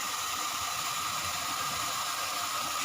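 Cumin seeds sizzling in hot oil while tempering, a steady, even hiss that holds unbroken throughout with no talk over it.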